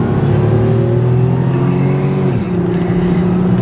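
Supercharged Buick Riviera accelerating hard, a loud steady engine drone rising in pitch then dropping at a gear change, heard from inside the car with no talk.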